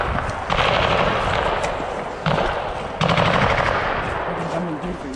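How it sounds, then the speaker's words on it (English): Gunfire in a close-range firefight: loud bursts of automatic weapon fire come in repeated volleys with brief pauses between them, sharp and near. "an intense firefight broke out, quickly escalating into a fierce close combat encounter"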